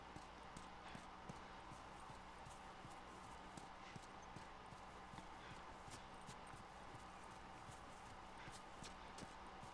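A horse in The Last of Us walks along with steady, rhythmic clip-clop hoofbeats, faint and low in level against a constant background hum of game ambience.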